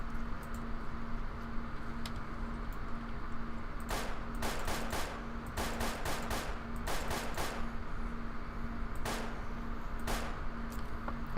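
Gunfire in STALKER Clear Sky, a pump shotgun unloading on zombies: a quiet stretch of steady hum, then clusters of sharp, rapid reports in quick bursts, with a final pair of isolated shots after a pause.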